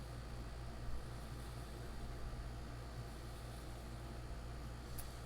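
A boat cabin air conditioner runs steadily throughout, a continuous broadband hum and hiss with a low droning tone, no talk over it.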